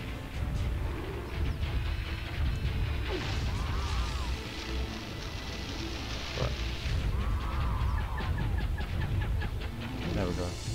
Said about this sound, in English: Can these birds just piss off?